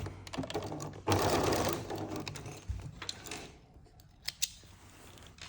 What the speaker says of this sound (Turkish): makinasını çekiyorum